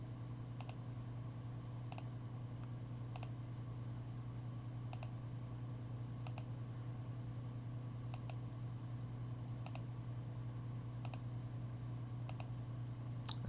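Computer mouse clicks while a map layer is drawn in GIS software, about ten crisp single clicks spaced roughly a second or so apart, over a steady low hum of room or computer noise.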